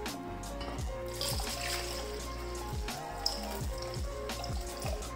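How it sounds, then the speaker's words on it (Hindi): About two glasses of water are poured into mixed dal in a pot for a village-style dal tadka. It makes a faint, steady trickle and splash throughout. "तकरीबन 2 ग्लास के जितना इसमें मैं डाल दूँगी पानी।"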